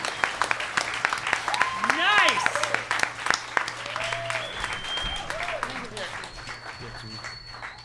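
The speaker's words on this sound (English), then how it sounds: "Keep the applause going." Audience applause on a comedy podcast recorded live, clapping under a host's voice and a few short words, with scattered whoops and voices over the crowd. It rises to a peak in the middle and then eases to a steady level.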